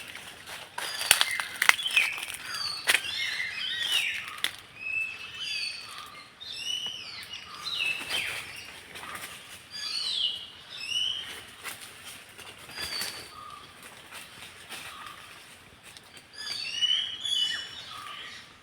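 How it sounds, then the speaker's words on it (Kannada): Several birds call and chirp in short bursts throughout, some sharp and near, others softer in the background, with scattered rustling. "ಹಕ್ಕಿ ಕೂಗ್ತುಂಟು ನೋಡಿ"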